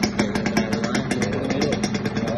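A Kawasaki Ninja 150 KIPS two-stroke motorcycle engine idles close by, a steady, rapid popping putter with light mechanical clatter and small revving swells.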